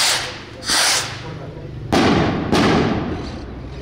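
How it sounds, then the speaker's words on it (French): Fireworks set off at dawn to open a religious festival for the Virgen del Carmen in Santa Maria Tonantzintla, Mexico: sharp bursts that decay into hissing crackle, close and loud against steady outdoor background. "Les feux d'artifice commencent dès l'aube pour annoncer le début des festivités."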